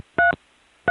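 Touch-tone digits are dialed on a long-distance trunk into the TSPS 0+ dialing system, two short, clean tone bursts close and alone, with silence between them.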